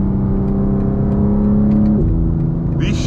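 A tuned BMW G87 M2 pulls hard under acceleration, its loud, steady engine drone heard from inside with a quick, aggressive gear shift dropping the pitch partway through.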